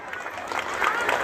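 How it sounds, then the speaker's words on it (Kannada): An audience bursts into applause, a dense, steady clapping from a large crowd that swells slightly toward the end. "ಅದಕ್ಕೆ ನಿಮಗೊಂದು ದೊಡ್ಡದಾದಂಥ ಚಪ್ಪಾಳೆ"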